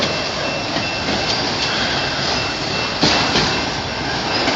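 A freight train of car-hauler wagons leaving Venus rolls past close by in a dense, continuous rumble and rattle of wheels on rail, steady and loud throughout, with no talking.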